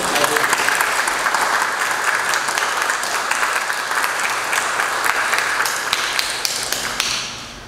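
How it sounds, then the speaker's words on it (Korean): A church congregation gives a big round of applause during a Sunday worship service welcoming a visiting team, dense sustained clapping that fills the room evenly and fades out at the end. "큰 박수로 한번"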